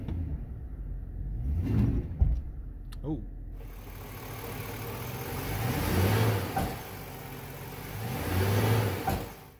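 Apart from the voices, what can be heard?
2005 GMC Sierra 1500 engine loaded in reverse against brake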